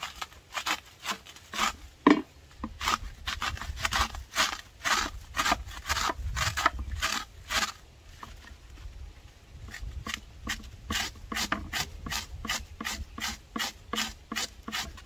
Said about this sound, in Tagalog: ikayod. Napapansin nyo po, makukuha nyo na yung tapos mahihiwala yung fiber niya.